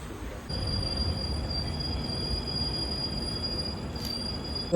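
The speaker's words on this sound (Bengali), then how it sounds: "আমাদের ট্রেন এখন এসে পৌঁছেছে নৈহাটি জংশন স্টেশন" A train rolls into Naihati Junction station with continuous rumble and sustained high-pitched wheel squeal, steady throughout and fairly close, with a louder burst at the very end.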